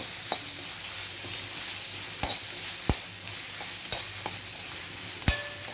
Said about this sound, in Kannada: ದೊಣ್ಣೆ ಮೆಣಸಿನ್ಕಾಯಿ ಮತ್ತು ಶುಂಠಿ ಹಾಕ್ತಾಯಿದ್ದೀನಿ. ಚೆನ್ನಾಗಿ ಅದೊಂದು ಸ್ವಲ್ಪ ಬಾಡಿಸ್ಬೇಕು.